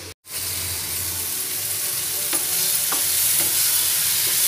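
Moong dal pongal ingredients sizzle and hiss steadily in hot oil in a pan as a spoon stirs them, with occasional scraping knocks, close and loud after a brief cut near the start.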